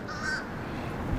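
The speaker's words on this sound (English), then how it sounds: "Nothing says the Christmas season like a murder of crows." Crows caw briefly at moderate distance outdoors in a short, faint burst over a light background hush.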